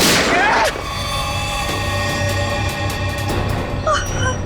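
A single loud, sharp gunshot opens a scene in the TV crime drama CID, followed by a sustained tonal background with a few smaller hits.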